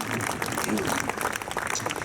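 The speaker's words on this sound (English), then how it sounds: "A big round of applause for this young man" Guests at a gala dinner in a grand hotel ballroom break into applause for a young man, a continuous wash of many hands clapping under talking voices.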